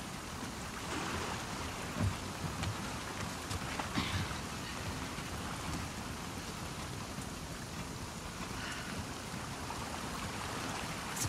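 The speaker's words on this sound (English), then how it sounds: "Let's get out of the rain." Steady rain falls throughout a scene in the video game The Last of Us Part II, a dense, even hiss of drops on surfaces with a few slightly louder splashes, and no talking.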